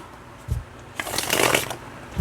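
Tarot cards from a Druidic deck riffle-shuffled by hand: a short soft tap, then a dense crisp flutter of cards riffling together for under a second, close and alone without talk.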